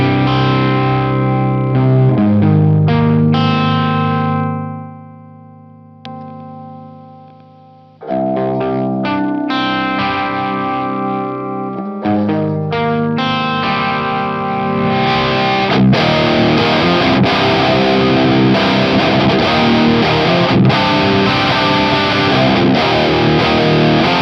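Electric guitar played through a Dallas Rangemaster treble booster with the volume rolled off, giving a thin, midrange-heavy, slightly fuzzy tone; loud continuous chords and riffs with a brief quieter pause, no talking.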